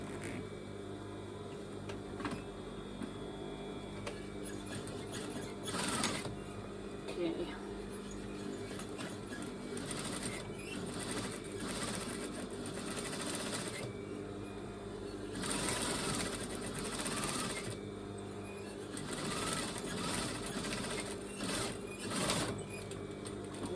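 Sewing machine stitching the seams of a cushion cover made from clothing, bursts of quiet rapid mechanical whirring that start and stop repeatedly, with a person talking intermittently over it.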